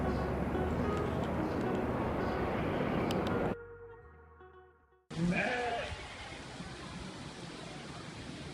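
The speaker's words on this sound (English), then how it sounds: "Lots of goats." Goats bleat amid a loud outdoor din in Quito, with a brief cut to quieter sound midway before the noisy, bleating scene resumes.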